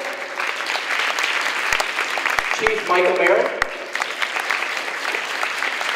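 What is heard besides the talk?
audience round of applause for guests at graduation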